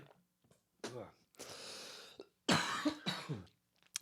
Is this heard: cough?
yes